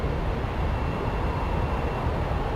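A Sukhoi Su-25 jet landing on a base runway, heard as a steady, dense low rumble with broadband roar at moderate distance, continuous throughout without talking.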